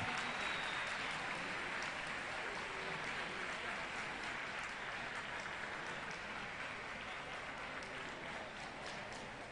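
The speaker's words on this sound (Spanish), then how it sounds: "ese aplauso espontáneo para ellos" Spontaneous applause from an audience for school students at a technology fair award ceremony, a faint, distant, even wash of clapping that continues steadily throughout.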